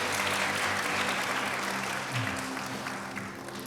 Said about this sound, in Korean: 유중근 이사장님께도 감사의 박수 다시 한번 부탁드립니다.